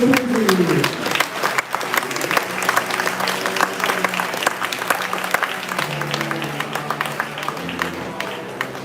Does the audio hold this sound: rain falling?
no